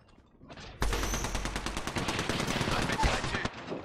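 Rapid automatic gunfire in Apex Legends, a loud sustained burst of evenly spaced shots after a brief lead-in, with one sharper crack near the end.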